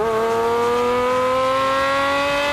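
A Pagani supercar engine holds a loud, smooth rising rev, its tone climbing steadily and continuously from start to finish at close range.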